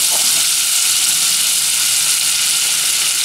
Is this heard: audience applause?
no